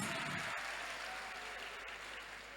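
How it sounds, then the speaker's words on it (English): A crowd applauds the students at a youth empowerment summit, sustained clapping from many hands that stays steady and gradually tapers in loudness. "A clap for all the students here, please."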